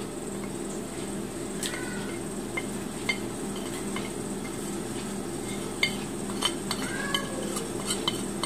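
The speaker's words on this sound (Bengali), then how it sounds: "খুব ভালো করে এটা মিশিয়ে নিব আমি।" Food being stirred and mixed in a pan, with a utensil scraping and clinking against the metal at irregular moments over a steady low kitchen hum; no one speaks.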